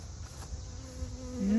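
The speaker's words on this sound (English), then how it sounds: "I can already see bees in there, and they seem to be doing, oh yeah, they're doing gangbuster" Bees hum and buzz in a soft, continuous drone from an opened beehive, close but faint, with a low steady background rumble.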